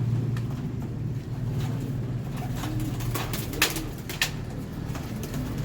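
A racing pigeon coos softly in a loft, low repeated throaty calls running steadily through the scene with faint background hum and a couple of brief clicks, no talking.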